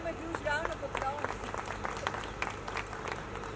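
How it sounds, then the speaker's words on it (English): An audience claps for the poets at a poetry session, steady applause filling the room while a voice talks over the first second or so. "Let's give them a huge round of applause."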